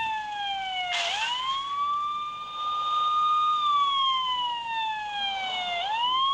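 A police siren in a video game wails in long rising and falling sweeps, clear and electronic-sounding, with no talk over it.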